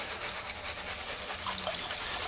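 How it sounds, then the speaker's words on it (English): Water trickles and sloshes steadily while gold paydirt tailings are rinsed in a pan, a soft continuous wash of liquid close by with no talking. "I did a little rinsing"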